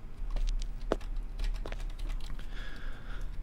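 Close, uneven clicks of fingers pressing computer keyboard buttons, a handful of distinct taps over quiet room noise, followed by a faint sustained tone.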